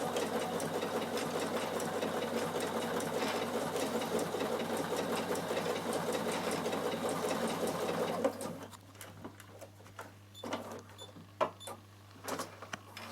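A Bernina sewing machine sews with a twin needle in a continuous steady motor whir with rapid stitching rhythm for about eight seconds, then stops, followed by light clicks and fabric handling noises.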